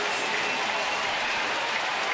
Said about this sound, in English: A delirious Friday night crowd.